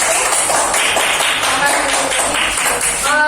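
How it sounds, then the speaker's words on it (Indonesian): A classroom group claps for the first group of students in a dense, steady patter of hands, with voices talking over it. "silakan tepuk tangan dulu untuk kelompok 1"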